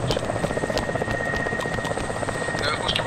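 Helicopter rotor and engine in the military game ArmA 2 (ACE mod), a steady, close, continuous rotor drone and whine through the whole stretch, with faint radio-style chatter underneath.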